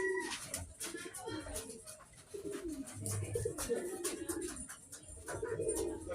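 Racing pigeons coo softly at the loft, low murmuring calls repeating faintly through the scene while someone talks nearby and a dog is faintly present.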